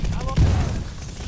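Gunfire in a Call of Duty battle royale match: a short, punchy burst of shots landing mid-clip over a busy game soundscape.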